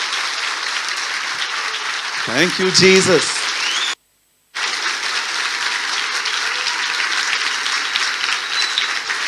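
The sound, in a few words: audience applause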